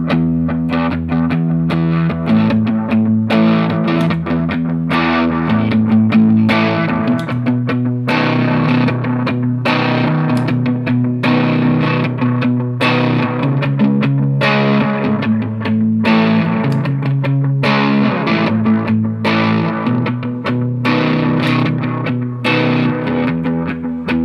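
Heavily distorted electric guitar playing a sustained rhythm-lead line with chords and melodic runs, loud and continuous, no voices, through an Amp Eleven or JHS Kilt distortion.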